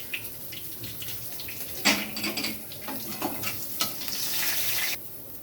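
Bay leaf, whole garam masala and dried chilli crackle as they are tempered in hot oil in a pan, a steady close sizzle with a few sharper pops and a brief louder burst near the end.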